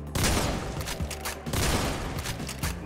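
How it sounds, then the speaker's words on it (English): Rapid gunfire in a first-person shooter game, shotgun blasts and bursts packed close together in a dense, loud volley that runs the whole stretch without pause. "I'm just gonna be using the shotgun"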